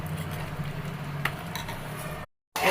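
Onions and tomatoes sizzle steadily while being stirred in a pan, a continuous frying hiss with faint utensil clinks, then cutting briefly to silence near the end.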